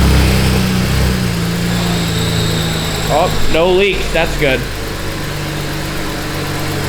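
A 600hp big-turbo BMW engine running at a steady, loud, rumbling idle close by, holding an even drone throughout while someone speaks briefly over it.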